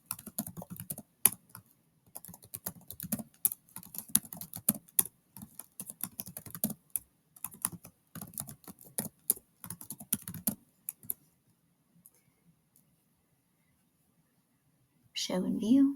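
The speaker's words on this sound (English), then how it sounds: "click in or type in the days of the week" Rapid clicking of typing on a computer keyboard, dense keystroke bursts for about ten seconds, then near silence and a short rustle at the end, close and without talk.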